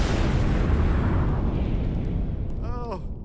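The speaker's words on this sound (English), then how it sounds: "does that seem like a lot of explosions?" Loud stage explosions boom and rumble at a Call of Duty World League Championships esports event in 2018, a sustained roar that fades over a few seconds before a voice briefly cuts in.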